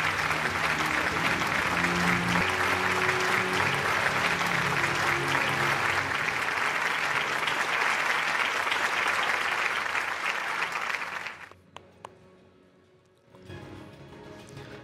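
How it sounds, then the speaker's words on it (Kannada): A large audience at the Chittara Star Awards 2024 ceremony gives loud, sustained applause for about eleven seconds. The clapping then cuts off abruptly to near quiet before faint crowd noise returns. "ಬಲಿ ಚಪ್ಪಾಳೆ"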